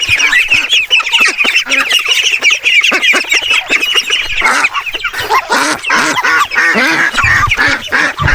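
A flock of Pekin ducks squawks and quacks loudly and continuously, close by, overlapping calls in a busy chorus with some scuffling noise.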